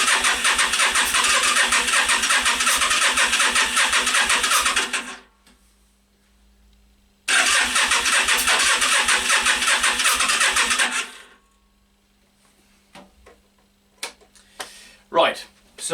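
Yamaha Virago XV500 motorcycle engine cranking without firing, two long bursts of loud, steady starter churning separated by a silent pause, followed by faint clicks and a brief sound near the end.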